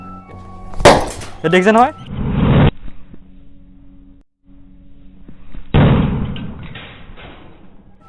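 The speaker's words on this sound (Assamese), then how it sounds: "এনেকুৱা এটা ডাঙৰ বিস্ফোৰণ হৈছে" Lighters burst in an explosion experiment: a sharp pop with a clattering, glassy crack, followed later by a second loud burst, with people talking before and between the blasts.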